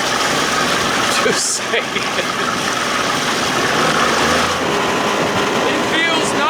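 A 60 hp Johnson outboard motor running steadily on a prop test, a loud, close, continuous drone that dips briefly near the start, with a voice talking over it.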